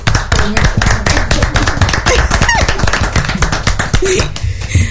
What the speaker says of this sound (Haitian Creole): On applaudit Adélaïde